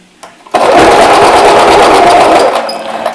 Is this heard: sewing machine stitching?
yes